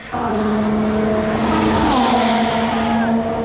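Formula 1 cars at the Las Vegas Grand Prix screaming past on the street circuit, a loud high-pitched engine wail that rises and sweeps by over several seconds, heard close from trackside.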